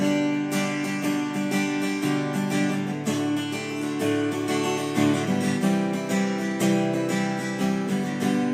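A Martinlee TE29 OM-shaped acoustic guitar with a solid top is strummed unplugged, steady chords ringing continuously at close range with no voices.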